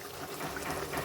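Raw mustard oil is poured into a pan of Bengali phasa fish curry, a brief, soft liquid splash and trickle heard close up and alone.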